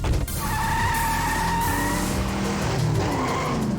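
A sedan's engine and exhaust roar in the video game Eve New Generation, a loud, steady revving drone with a rising whine, close and continuous.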